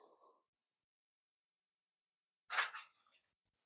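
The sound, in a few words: sneeze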